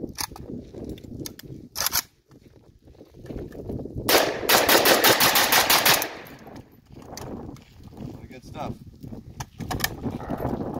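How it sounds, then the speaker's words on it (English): An AK rifle firing Arsenal-made 7.62x39 rounds, with a couple of sharp reports early and a fast rapid-fire burst in the middle, followed by scattered shots, mechanical rattles and brief talk in the background. "We're gonna put some rounds through the AK."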